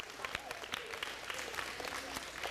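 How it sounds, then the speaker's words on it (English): Schoolchildren clap for a classmate in an elementary school classroom, giving a steady, moderately loud patter of many small hands for a few seconds, with faint voices underneath. "Everybody clap for her."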